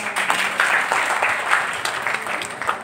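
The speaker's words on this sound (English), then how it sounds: "a round of applause for them." Audience applause for student performers at a college Teacher's Day celebration, a steady dense clapping wash from a sizeable crowd lasting throughout, fairly loud with small swells.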